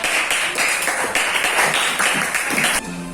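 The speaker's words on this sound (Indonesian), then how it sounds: "Beri tepuk tangan dulu untuk kita semua" A burst of clapping from a group in a classroom lesson, a continuous dense patter of hands that cuts off near the end.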